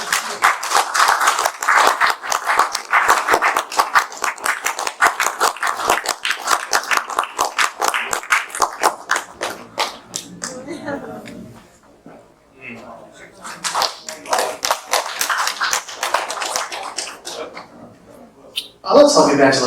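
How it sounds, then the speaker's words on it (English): Wedding guests clap during the speeches, dense ragged clapping that fades partway through and then returns, with voices talking and calling out over it. "Let's all give Angela a big round of applause."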